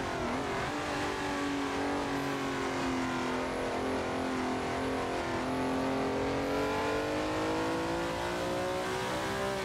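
A race car engine in the Assetto Corsa sim game drones steadily at high revs for the whole stretch, pitch slowly climbing and dipping through gear changes, heard quietly without talk.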